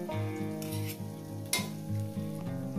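A paste of ground coconut, poppy seed and cashew sizzles in a hot pan for a katla fish curry, with a steady close frying hiss and occasional stirring scrapes under a faint tonal background, and no voices.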